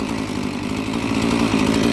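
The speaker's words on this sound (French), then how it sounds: "je me retrouve avec cette tronçonneuse que je ne peux pas éteindre" A chainsaw that cannot be switched off during tree felling runs steadily at a loud, rough, pulsing idle, throbbing evenly throughout with no voices.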